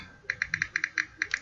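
Rapid tapping of keys on a phone, about a dozen short, crisp clicks in an irregular typing rhythm, close and fairly loud with no talk over them.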